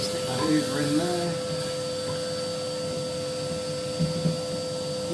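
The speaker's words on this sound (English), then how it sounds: "what we do is we stick the hoover in there." A household vacuum cleaner sucks soot from a Clearview Pioneer 400P 5kW multi-fuel stove, giving a constant low hum and whine under occasional faint scraping and rustling as the nozzle moves inside.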